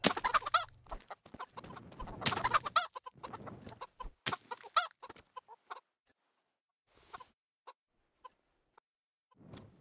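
Chickens cluck in the medieval video game Kingdom Come: Deliverance, a flurry of loud close clucks and squawks at first, then fading to sparse, quieter clucks separated by silence.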